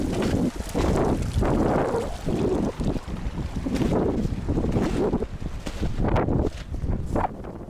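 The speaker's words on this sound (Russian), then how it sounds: "Туман, ветер, шум реки." Wind and rushing river noise in fog on a mountain pass in Nepal, a steady loud roar with gusty swells throughout and no voices.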